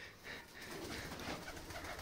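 Low, soft cooing of pigeons, faint and continuous with a murmuring background, no talking.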